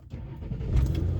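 A car engine, started to check the battery, cranks and catches into a low, rising rumble that grows steadily louder and settles into a rough idle, with no talking.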